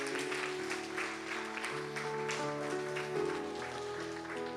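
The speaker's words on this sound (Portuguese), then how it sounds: "Vamos dar um aplauso a Jesus nesta manhã." A church congregation at a Portuguese-language service claps together in a full, even round of applause over sustained keyboard or organ chords, with the music continuing beneath the clapping.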